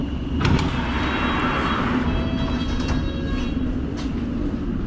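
A London Underground District line train arriving at a busy station, giving a steady loud rumble with squeals and clatter throughout, and no talking.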